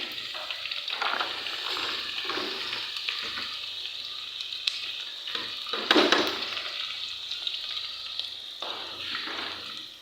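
Chili, garlic and onion fry in a pan, a steady close sizzle with spatula scrapes and stirring bursts swelling and easing throughout, no voices.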